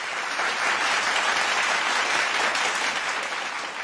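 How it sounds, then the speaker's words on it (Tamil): Audience applause for government school students who passed the IIT exam, a full, steady round of many hands clapping at moderate loudness, swelling slightly midway and tapering at the end, with no talk. "அவர்களுக்கு நல்ல கைத்தட்டில் கொடுக்கலாம் நம்ம எல்லாருமே சேர்ந்து நினைக்கிறேன்"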